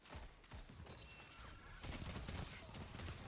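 Hip-fire bursts from the MIDA Mini-Tool submachine gun in a first-person shooter, a rapid volley of dense crackling shots, continuous and fairly loud, with the firing growing heavier toward the end.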